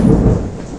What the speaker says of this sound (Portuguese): Aqui é o trovão, hein?